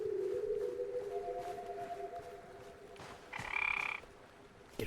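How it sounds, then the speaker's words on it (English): A frog croaks in a video game, a low droning croak held for a few seconds, then a brighter, higher croak burst near the end, fairly faint and alone. "Get over here, frog."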